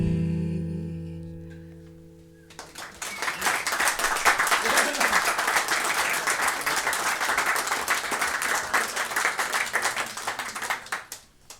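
After a song ends at a small intimate concert, a brief quiet gives way to warm audience applause that swells quickly and holds steady, many hands clapping close by, then thinning toward the end.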